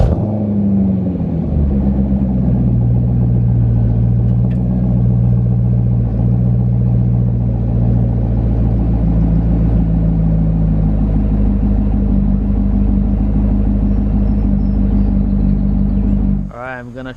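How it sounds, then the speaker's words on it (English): A Corvette V8 cold start: the starter catches and the engine flares up, then settles into a deep, steady idle rumble heard close by for many seconds before cutting off abruptly. "First time cold start."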